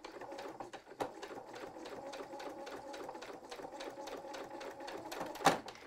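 A sewing machine stitches quilt fabric in a rapid, even mechanical whir and clatter, running steadily up close with a sharp click near the end.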